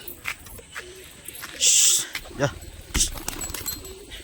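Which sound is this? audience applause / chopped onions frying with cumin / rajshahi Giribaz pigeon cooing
rajshahi Giribaz pigeon cooing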